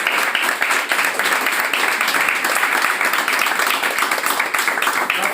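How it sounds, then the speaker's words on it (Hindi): An audience claps steadily and densely for several seconds, a sustained close burst of applause with no talking over it. "ताली बजा भाई।"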